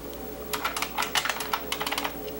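Fast, clattering keystrokes on a stiff computer keyboard, a steady run of sharp clicks close by in a quiet room.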